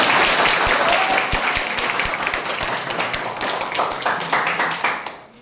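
A group claps briefly in a classroom lesson, sharp irregular hand claps close by over a dense, noisy background, with a voice speaking near the end.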